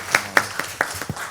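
Quick claps sound close by, six uneven hits, as a sparse audience welcomes a speaker at a health and welfare research forum.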